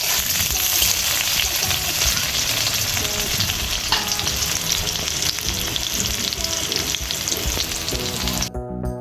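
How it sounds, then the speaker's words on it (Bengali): Onions and two dried red chillies fry in hot oil in a wok, a continuous close crackling sizzle with stirring that runs for about eight seconds before cutting off abruptly. "ভালো করে পেঁয়াজটা ভেজে নেব।"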